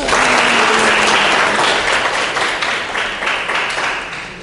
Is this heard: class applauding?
yes